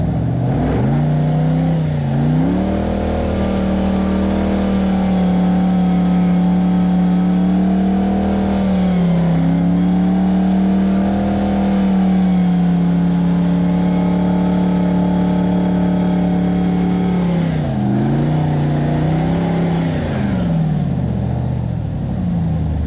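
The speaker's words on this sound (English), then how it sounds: "And now we're going to listen to the engine roar." A rock crawler's loud engine drones steadily at high revs while climbing rocks, its pitch dipping and climbing a few times as the throttle shifts, with no talking.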